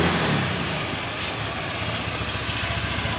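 Honda Vario Techno carburetor scooter with an engine fault causing black exhaust smoke, its engine running with a steady buzzing drone held at raised revs, loud and close.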